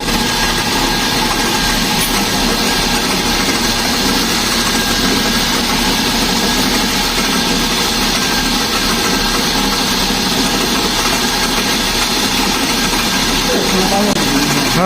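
A Mercedes S300 engine runs steadily at idle with a noisy alternator, giving a continuous broadband hum and whine throughout, with faint talk in the background.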